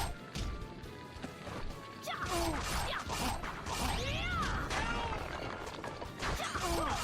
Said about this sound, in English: They got the most lackluster sound effects. Like those smashing rock hands.